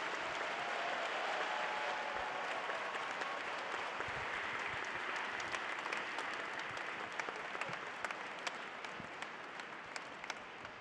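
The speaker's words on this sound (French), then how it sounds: "Je vous propose d'accueillir avec un tonnerre d'applaudissements Gérald Darmanin." An audience at a political rally applauds to welcome Gérald Darmanin, a thick, sustained round of clapping from a large crowd that stays steady and begins to thin slightly toward the end.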